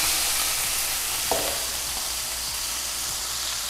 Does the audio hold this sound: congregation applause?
no